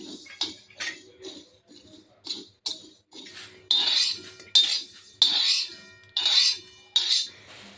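Yellow mustard seeds dry-roasting in a pan, with a spoon or spatula scraping and rattling the seeds in rhythmic strokes about every half second, close and clear with no talk.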